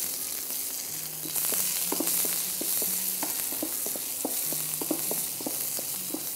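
About a dozen finely chopped shallots fry with pepper and fenugreek for a salted dried-meat kuzhambu, giving a steady close sizzle broken by repeated sharp clinks and scrapes of stirring.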